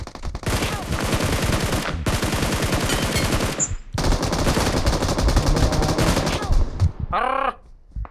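Loud, sustained automatic gunfire in a multiplayer shooter game rattles in rapid bursts, broken by two short pauses, with a brief distinct mechanical sound near the end.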